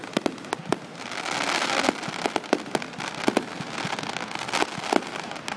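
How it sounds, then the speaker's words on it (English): Fireworks go off in a steady crackling display, with many sharp pops and bangs scattered irregularly over a continuous fizzing rumble, moderately distant and with no talk. "Gotta love fireworks."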